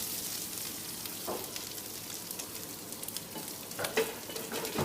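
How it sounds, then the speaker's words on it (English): Olive oil heating in a pan, a soft steady sizzling hiss with a couple of faint clinks, close and quiet with no talk. "So I'm just going to heat up our pan for a bit of this chili tomato sauce"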